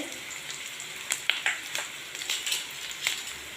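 Onions fry in a pan for a shahi paneer dish, giving a soft steady sizzle broken by a few sharper crackles and stirring scrapes, close and moderately quiet.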